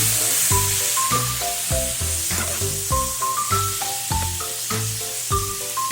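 Chicken frying in a small pan with golden brown onions for chicken adobo, a steady close sizzle with occasional stirring, under melodic background music.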